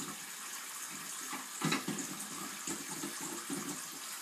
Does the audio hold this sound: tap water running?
yes